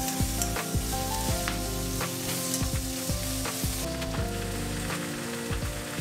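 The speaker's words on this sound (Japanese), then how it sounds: "あまり動かさずにキャベツに焼き色をまとわせていきます。" Cabbage searing in an oiled pan, left mostly unstirred to brown, with a loud continuous sizzle and crackle broken by occasional sharper pops and spatters.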